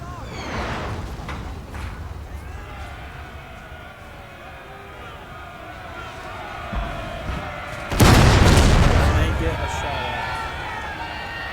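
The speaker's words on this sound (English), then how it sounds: "My howitzer is still firing on top of my men." Howitzer artillery in the Napoleon Total War battle game, a heavy boom bursting out around the eighth second over a rumbling battlefield din, with a voice speaking throughout.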